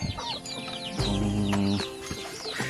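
Chickens cluck and chatter at close range in a free-range area, with overlapping short calls and a louder burst of vocalizing in the middle.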